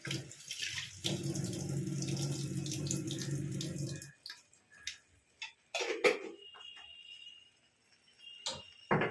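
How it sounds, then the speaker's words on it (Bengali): A kitchen tap runs steadily for about four seconds as hands are washed, then shuts off, leaving quiet clinks, taps and small handling sounds nearby. "হাতটা ধুয়ে একটু জল দিয়ে দেবো।"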